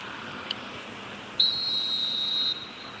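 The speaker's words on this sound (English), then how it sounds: "There's the whistle, and here we go." A referee's whistle starts a match in a football video game, one clear sustained shrill blast of about a second after a brief faint chirp, over a quiet crowd-like background hum.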